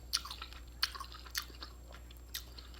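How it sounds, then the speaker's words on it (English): Close eating of pho, Vietnamese beef noodle soup with rice noodles, basil, green onions and beef balls: a few sharp, crisp bites and chewing sounds spaced out over quiet, without talk. "Let me get my slurp on a little bit."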